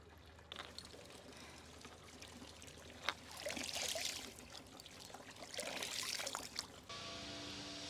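Steady running and splashing water from a town fountain in Switzerland, continuous and fairly close, with outdoor ambience and a few brief knocks.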